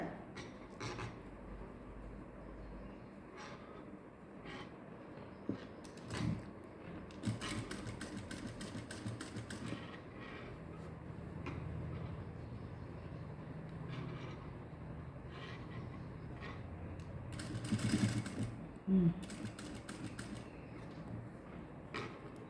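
A sewing machine stitches satin fabric for a balloon-sleeve, princess-cut blouse, giving a quiet mechanical whirr with rattling and clicking bursts.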